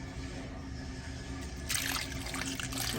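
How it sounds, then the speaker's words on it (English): A cup of orange juice is poured into a pot of cranberries as homemade cranberry sauce is made. A steady liquid splash and trickle starts partway through and runs over a low background hum. "Run your orange juice on here."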